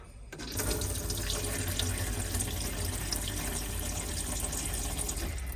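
Water runs from the tap into the sink of a 2025 Auto-Trail V-Line 610SE motorhome, starting abruptly and then gushing in a steady, close, continuous stream until the end.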